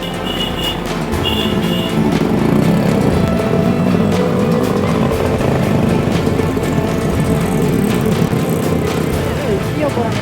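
Motorbikes ride in a line along a steep hill road, their engines droning loud and steady close by, with a voice speaking over the traffic noise.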